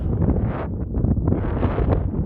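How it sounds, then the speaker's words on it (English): Heavy wind buffets the microphone on a hilltop at the Grand Quivira ruins in New Mexico, producing loud, continuous low rumbling gusts with no other sounds audible. "Sorry about the wind, it's windy out here,"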